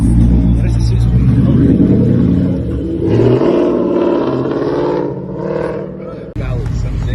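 A 6-speed Dodge Demon at a car meet, its loud engine rumbling and revving close by in a sustained throaty roar that rises and falls, with people talking over it.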